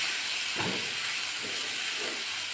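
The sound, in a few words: onion and capsicum being stirred in a pan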